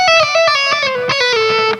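An electric guitar plays a quick hammer-on, pull-off and slide phrase: clear sustained notes bending smoothly between pitches, a legato run picked once or twice, close and bright with no talking.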